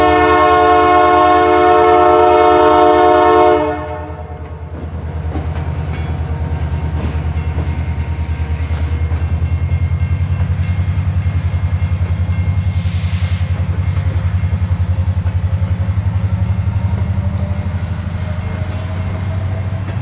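A freight train rolls through open fields, opening with a loud multi-tone horn blast for about four seconds, then a long steady rumble of cars passing close by with faint clatter, fading slightly at the end.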